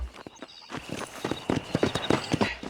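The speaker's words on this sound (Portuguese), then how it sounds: "Sobe no cavalo, desce do cavalo." Horse hooves clip-clopping in the Red Dead Redemption video game, a steady close series of hoof strikes that speeds into a quicker rhythmic gait, with no voices.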